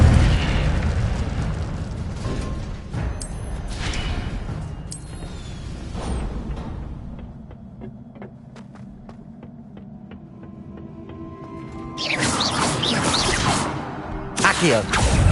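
Incendio fire spell in the magic adventure game Hogwarts Legacy: several whooshing fiery bursts flare up early, the sound dips to a low hum in the middle, then a loud blazing eruption swells near the end.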